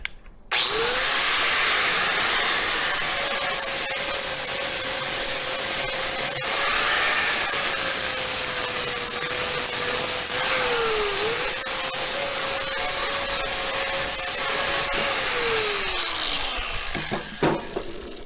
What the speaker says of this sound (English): Flap wheel.